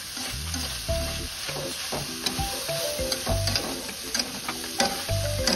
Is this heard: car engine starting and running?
no